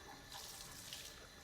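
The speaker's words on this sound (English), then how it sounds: "Turn on the faucet." Water running from a faucet into a sink, a faint, steady hiss and splash used for rinsing paint brushes, with no voices.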